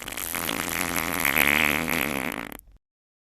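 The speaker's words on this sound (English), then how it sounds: "Finally, we are able to reveal the world's funniest fart." A long, loud, buzzy fart sound billed as the world's funniest, rising and wobbling in pitch for over two seconds before cutting to silence, with a brief blip at the end.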